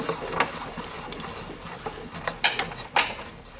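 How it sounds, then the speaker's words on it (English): A 1922 Victor Victrola VV-50 phonograph, unserviced for decades, being wound by hand: close, dry ratcheting clicks and gear rattles with several sharper clanks toward the end, no talking. "Let's wind it up a little bit, see what we have."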